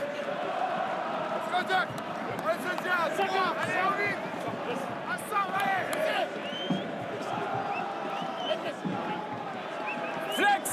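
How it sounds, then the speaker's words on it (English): A large home crowd fills Stade Mayol in Toulon during a French Top 14 rugby match, a loud continuous roar of cheering, shouts and chants with whistles and a commentator talking over it. "Happy, noisy Stade Mayol crowd."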